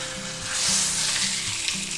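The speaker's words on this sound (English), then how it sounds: "Now we're going to quickly sear that on both sides" A boneless beef ribeye steak sears in a hot pan with a steady, loud, close sizzle that stays even throughout, with no talking.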